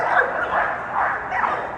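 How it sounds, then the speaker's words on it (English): Pit bulls at a dog show in Athens, Tennessee bark and yip repeatedly in a noisy, echoing crowd of dogs, a continuous busy din with rhythmic barking peaks. "A lot of nice dogs out here today."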